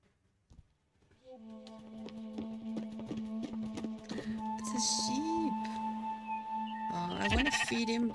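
Sheep bleat repeatedly in the video game Spiritfarer, wavering calls layered over steady tonal game music and chimes, growing busier toward the end with bright effects.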